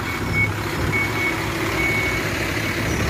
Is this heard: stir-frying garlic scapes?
no